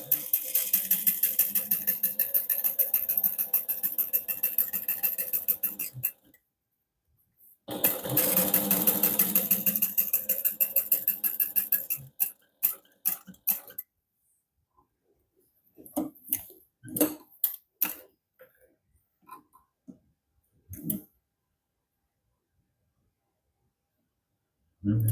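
Domestic sewing machine running in steady bursts of rapid stitching, then a few short stop-start back stitches, with brief pauses of quiet between runs and soft handling noises.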